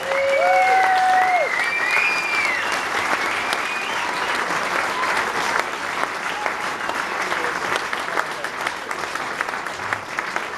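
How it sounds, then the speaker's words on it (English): A dinner-and-dance crowd at a club centenary gives a big round of applause for 40 years of club history, loud sustained clapping lasting about ten seconds, with a few whistles rising over it at the start. "give a great big round of applause to 40 years of club history"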